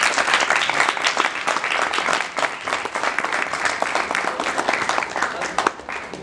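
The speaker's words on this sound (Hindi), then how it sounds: "तालियां बजा लीजिए।" Loud, dense applause from a large theatre audience after a play, steady clapping that fills the whole stretch without a break.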